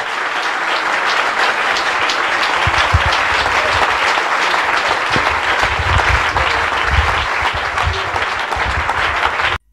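Church congregation clapping together in worship during a service, a loud, dense, continuous burst of applause lasting about ten seconds, heard alone and cutting off abruptly at the end.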